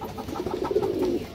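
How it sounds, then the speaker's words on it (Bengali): Male Muslodom pigeon of an old breed cooing in a steady soft rolling series of low notes, close by and alone with no talk. "একটা মুসলদম নর কবুতর, মাশাআল্লাহ অনেক সুন্দর একটা কবুতর"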